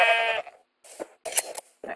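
Sheep in a Minecraft-style video game bleat several times in quick succession, a long wavering baa followed by shorter clipped bleats with brief silences between, close and clear with no talk.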